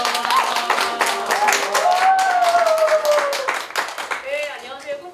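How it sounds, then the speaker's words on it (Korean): Applause from an audience at a graduation ceremony for a political school, with dense continuous clapping from a crowd that tapers toward the end while voices cheer over it. "우레와 같은 박수로 저희."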